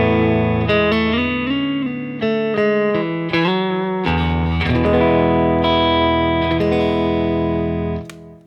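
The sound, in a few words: single-coil guitar through Axe FX 3 REVV D25 capture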